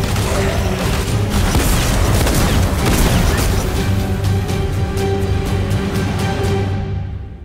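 Gunfire in a Fortnite short film, a loud continuous barrage of rapid shots and booming impacts layered densely for several seconds before fading out at the end.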